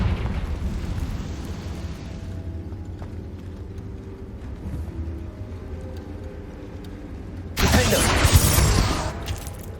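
A Confringo fire spell erupts in the video game Hogwarts Legacy, a sudden loud fiery blast near the end, following a stretch of quieter game ambience.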